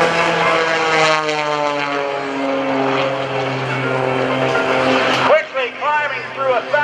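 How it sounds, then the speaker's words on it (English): An aerobatic airplane with a Lycoming engine performs at an airshow. The propeller and engine give a loud, sustained droning hum that shifts in pitch as the plane maneuvers, then breaks into a fluttering, wavering roar near the end. "he rolled the airplane to the left with the Lycon engine turning the empty propeller one way"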